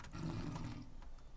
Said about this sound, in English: It sounded like a tiger or something.